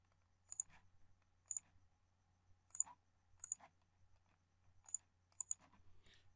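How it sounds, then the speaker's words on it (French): Sharp mouse clicks sound in quiet software use, about eight single and double clicks at uneven intervals, close and crisp over a faint low hum. "Je clique sur oui."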